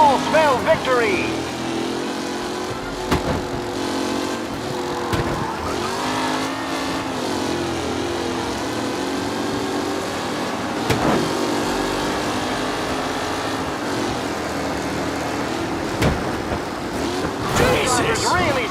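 Race cars from the video game Mafia Definitive Edition roar around a track, with engines droning and revving continuously and several cars passing by, while a commentator talks over them.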